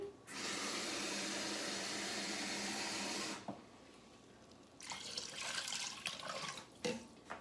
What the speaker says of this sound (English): And I'm just putting enough water in here to cover the chicken.